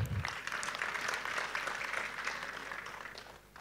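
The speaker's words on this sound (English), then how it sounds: "An applause for the Clarke Group." An audience applauds at a university scholarship event, a soft, steady wash of many hands clapping at a distance that fades slightly toward the end.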